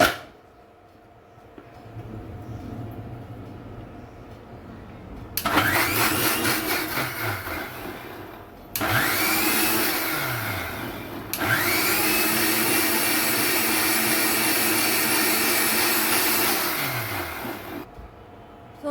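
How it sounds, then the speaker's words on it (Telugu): A kitchen mixer grinder blends butter with water, running in three separate loud bursts of steady high motor whine, each stopped and restarted, after a quieter stretch of room noise at the start. "సో దీన్ని అయితే ఒకసారి మిక్సీ పట్టేసుకుంటున్నాను"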